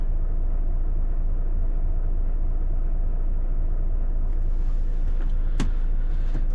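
Steady low engine rumble and road noise inside a truck cab while driving, loud and constant and close up, with one brief sharp click near the end.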